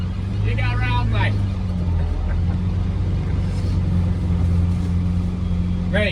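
A Morris Minor car drives around a roundabout with a steady, close engine hum and road rumble, while people talk over it.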